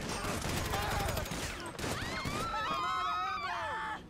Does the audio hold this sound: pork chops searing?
no